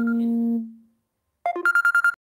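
An incoming call sets a phone ringing: a held electronic tone fades out, then after a short pause a rapid ringtone melody of quick repeating beeps plays clearly and close, with no voices.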